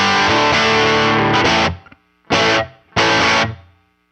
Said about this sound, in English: Turn the reverb on using the power icon that's on the right and give it a quick audition